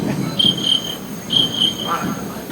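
A beatboxer imitates a cricket with his voice aboard a D train in Brooklyn, producing two bursts of high, thin chirping trills over the low rumble of the moving subway car.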